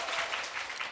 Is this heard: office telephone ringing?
no